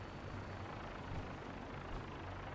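A Vertibird aircraft engine in the video game Fallout 4 roars as a steady, dense wash of droning noise with no breaks, faint in overall level and with no talking.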